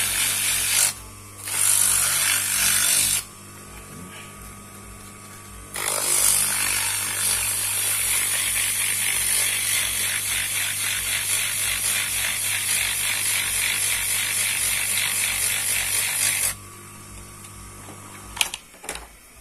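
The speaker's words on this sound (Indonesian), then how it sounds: "setelah berputar kita kasih amplas bagian asnya sampai kinclong." A loud, steady mechanical whir with gritty scraping over it, as sandpaper is held against the spinning shaft of a modified water pump, with brief stops and restarts.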